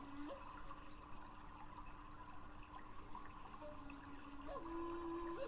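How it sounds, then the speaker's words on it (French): Steady, even rush of falling water from a waterfall, a continuous broadband wash with faint tonal hums above it, moderately soft and constant throughout with no voices. "Écoute le bruit de la cascade"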